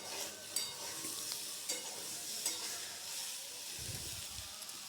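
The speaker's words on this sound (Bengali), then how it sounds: "খুব অল্প পরিমাণে আমি সরষের তেল দিয়ে এখানে কাঁচকলাগুলিকে ভেজে নিচ্ছি" Raw plantain pieces fry in a small amount of mustard oil, giving a quiet, steady sizzle with a few light scrapes of stirring, with no voice.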